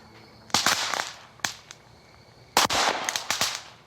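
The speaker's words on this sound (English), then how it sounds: "releasing flammable hydrogen gas, the H in H2O, which explodes when it mixes with air" Sodium metal reacting with water sets off exploding hydrogen gas, heard as a few sharp, crackling pops in two clusters, with quiet gaps between them.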